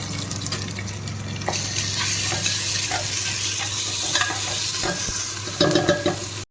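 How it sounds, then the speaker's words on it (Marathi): Ginger garlic paste frying with onion in a pressure cooker for whole chicken, a steady close sizzle with scraping stirs throughout and a few louder clatters near the end. "कांदा हलका फ्राय झाला, आता टाकू अद्रक लसूणची पेस्ट"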